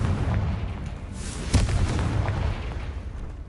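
A Confringo explosive spell blast from the video game Hogwarts Legacy hits as one sharp boom near the middle, set within a dense, rumbling bed of game noise.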